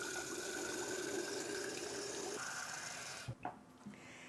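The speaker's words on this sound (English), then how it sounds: "And then we add water again." Water runs steadily into a glass jar of soaking broccoli seeds, a close, continuous splashing rush that stops near the end with a couple of small clinks.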